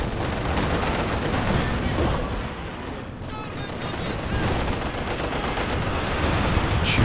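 Mortar fire in a Company of Heroes 2 match, with Soviet mortar teams shelling the enemy: a dense, continuous barrage of booms and rattling blasts holds steady through the whole stretch, with no voice on top.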